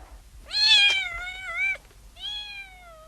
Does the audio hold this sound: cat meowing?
yes